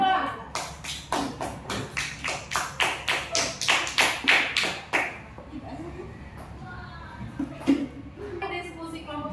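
Classroom audience clapping for a presenting group, a few seconds of rhythmic claps that build and then stop abruptly. Quieter shuffling and a voice follow.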